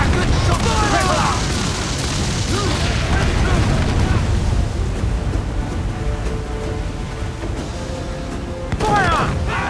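Broadside cannons booming from a sailing warship in Assassin's Creed 4: Black Flag, heavy low blasts rolling one after another over wind, creaking and shouted crew voices across a continuous loud naval battle.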